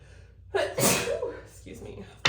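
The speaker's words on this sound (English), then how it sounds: "I think I'm gonna sneeze." A person gives a sharp, close sneeze with a gasping inhale first, loud and drawn out, followed by a quieter breath in a quiet room.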